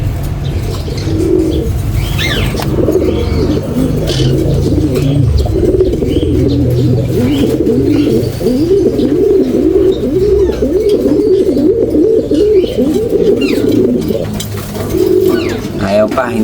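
Pigeons coo in a steady, low, throaty stream near at hand, overlapping soft calls with a few chirps mixed in, the cooing continuous throughout.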